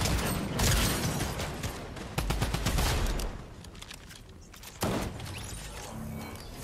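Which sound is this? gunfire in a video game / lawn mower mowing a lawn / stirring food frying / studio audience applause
gunfire in a video game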